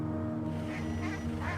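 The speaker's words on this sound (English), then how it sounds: "These ducks aren't very bright yet. They never stop for us." Ducks on a rural mountain road near an isolated village in China quack steadily, a dense close flock with repeated overlapping calls over a constant low background hum.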